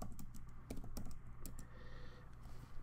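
Keyboard typing while using Notion on an iPad, heard as quick, light, close clicks of keys in irregular bursts over a low steady hum, with no voices.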